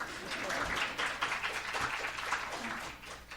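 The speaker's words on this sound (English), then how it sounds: "We'll give a round of applause to Malia for doing a great introduction" An audience at a town hall meeting gives a steady round of applause, a dense wash of clapping lasting a few seconds at moderate distance.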